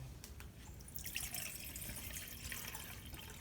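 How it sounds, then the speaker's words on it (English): Water pours from a British Army Pattern 58 Osprey canteen into a measuring cup, a soft, steady trickling and splashing that runs quietly and evenly throughout, with no talk. "So we're going to add some water from our canteen here"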